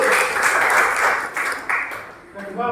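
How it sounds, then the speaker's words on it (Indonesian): Applause from an audience of teachers in a classroom session, a short burst of dense clapping that fades out with voices over it. "Terima kasih tepuk tangan untuk Bu Lucy dan Bu Lucy"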